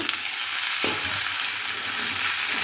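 Potato and pointed gourd sizzle in hot oil with lightly fried onion, a steady close frying hiss with a brief clatter of pieces landing in the pan near the start.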